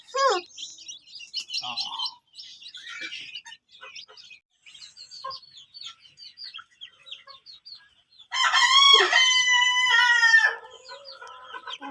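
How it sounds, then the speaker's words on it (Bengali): Desi hens and chicks cluck and peep in bursts, and a loud rooster crow rings out near the end, with people talking nearby. "এগুলা কি দেশি মুরগির বাচ্চা?"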